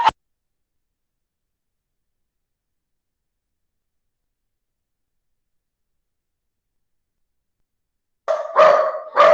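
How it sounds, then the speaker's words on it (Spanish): Several dogs in a home burst into a short run of barks near the end, loud and close, after a long stretch of silence. "mis perros se enloquecieron"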